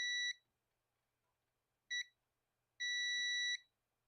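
Multimeter continuity beeps while probing a capacitor on a circuit board, three clean electronic tones alone in a quiet room: a short one, a brief blip, then a longer sustained beep.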